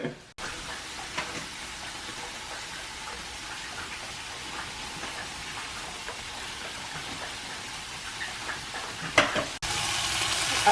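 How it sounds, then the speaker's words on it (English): Pieces of chicken cook on a home grill, giving a continuous close crackling sizzle with scattered pops throughout, rising slightly louder and brighter near the end. "Got some chicken on the grill"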